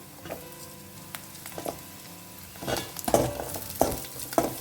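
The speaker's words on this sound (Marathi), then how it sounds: "बरे फ्राय करून घ्या" Onion, garlic and ginger fry in a pan for a Goan green peas curry, a soft steady sizzle broken by several louder scraping stirs of a spoon against the pan, close and clear with no talking.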